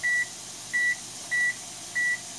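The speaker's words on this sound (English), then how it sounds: "And we'll put the timer on 4 minutes." A kitchen timer being set to 4 minutes gives four short, identical electronic beeps at an even pace, thin and fairly quiet against a low steady room hum.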